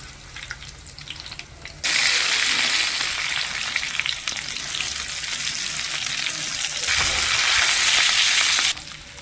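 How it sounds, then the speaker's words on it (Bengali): Potato lollipops dropped into hot oil and fried on medium heat, a loud, dense, continuous sizzle that jumps up suddenly and holds steady before cutting back down near the end. "এগুলো ভাজতে খুব বেশি সময় লাগবে না, মিডিয়াম আঁচে ভাজতে হবে।"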